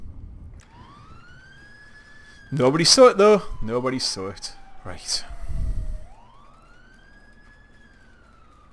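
A police car siren in the video game GTA 5 wails in slow, rising and falling sweeps throughout, steady and moderately loud, while someone talks over the middle stretch.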